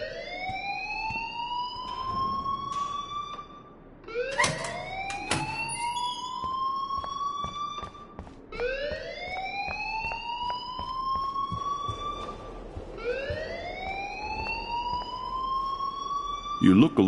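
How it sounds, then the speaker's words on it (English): An alarm in a video game sounds as a loud rising siren wail that repeats about every four seconds, steady and alone with no speech over it. "please turn off that alarm since that's your job."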